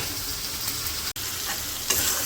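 Chopped tomatoes and potatoes sautéing together in hot oil with spices, a continuous close sizzle with a brief stirring scrape near the end.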